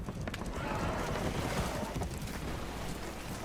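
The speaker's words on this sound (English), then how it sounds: "Horses are spooked, and we're taking on water." Spooked horses neigh and stamp aboard a leaking boat in the video game Red Dead Redemption 2, with hooves clattering and water rushing in a dense, continuous din at moderate level.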